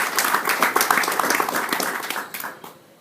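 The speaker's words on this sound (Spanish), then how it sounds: "para quien solicito un aplauso." Audience at a democracy symposium in Veracruz applauds a guest speaker with dense, steady clapping that tapers off toward the end.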